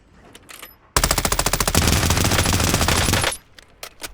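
Automatic weapon fire in a Call of Duty Warzone duos match, with rapid bursts of close, loud shots followed by sustained heavy firing that cuts off sharply, leaving faint scattered pops afterward.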